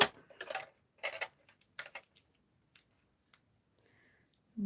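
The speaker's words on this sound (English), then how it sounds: "the die cutting machine. I've just got 4 to cut out." Die cutting machine cutting out paper planter pieces: a series of short crisp snips and clicks in irregular bursts, close and fairly quiet, separated by silences and ending on a few faint ticks.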